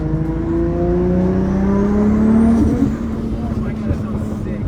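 A turbocharged car engine revs up loudly and close, its pitch climbing steadily before dropping back, with an excited voice speaking over the roar.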